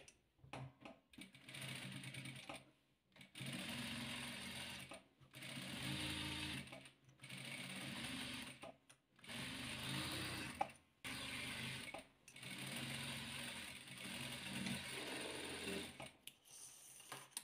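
A sewing machine stitches patchwork fabric pieces for a star-pattern quilt, running in repeated close bursts of rapid mechanical chatter separated by short pauses.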